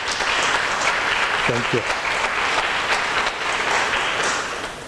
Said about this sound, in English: Can we all give a round of applause?